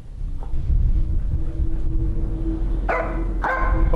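A dog barks twice in a horror video game, two sharp barks close together near the end, rising over a low, rumbling ambient drone that fills the scene.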